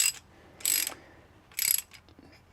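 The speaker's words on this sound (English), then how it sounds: "you can hold the one while tightening the other" A wrench ratchets against a soft plastic fitting on a water pick-up tube, making two short bursts of clicky, grinding turns separated by a pause, close and fairly crisp, with a faint tick at the end.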